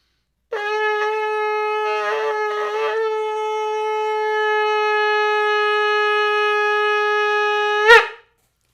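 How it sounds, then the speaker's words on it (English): One long, steady blast on a ram's horn shofar with a rich buzzing tone, held for several seconds, slightly wavering partway, then ending with a sharp cutoff. "That's a long blast on a ram's horn."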